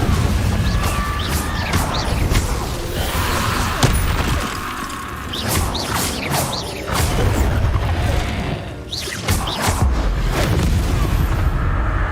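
A Confringo blasting spell explodes in the Hogwarts Legacy video game, with heavy booming blasts and crashing impacts layered over dense, continuous combat noise that stays loud throughout.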